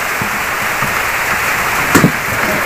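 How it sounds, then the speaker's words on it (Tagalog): Steady rain falls over a street where vendors are out selling, a constant broadband hiss from near and around, with a brief louder splash or knock near the end and no talk. "Inabot na kami ng ulan, mga kadudod friends."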